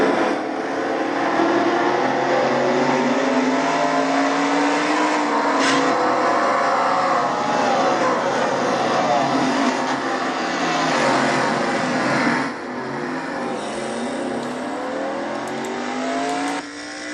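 Onboard engine of the Castrol GTX Cup Series number 68 car howls loudly and continuously, pitch sweeping up and down through gear changes and corners, with a brief dip near the end.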